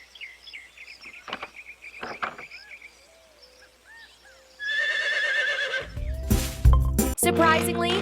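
A horse whinnies loudly near the end, a rising and falling neigh that follows quieter bird- and insect-like calls and scattered chirps earlier on.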